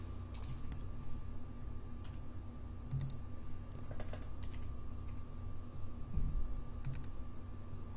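Keys clack on a computer keyboard in short, scattered bursts of quick taps, faint and close against a low background hum, with no talking.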